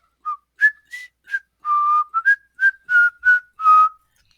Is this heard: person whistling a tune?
yes